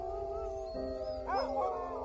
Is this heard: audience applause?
no